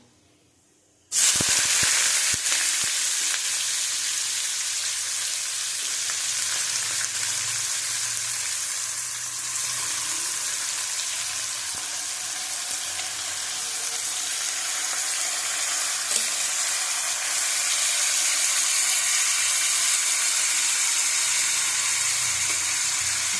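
Chopped onions fry in hot oil with a loud, steady, dense sizzle that starts abruptly as they hit the pan and continues without a break.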